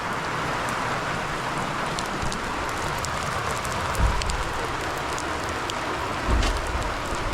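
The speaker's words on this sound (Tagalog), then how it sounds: "Lakas ng ulan." Steady, dense rain hiss fills the clip without a break, with a couple of soft low thumps partway through and no voices.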